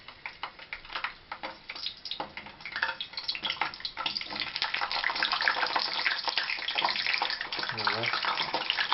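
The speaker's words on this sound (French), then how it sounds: "Et ben là, je vais mettre mes poivrons à frire." Peppers go into a very hot pan of oil, giving a fairly quiet, crackling sizzle that builds and thickens over several seconds.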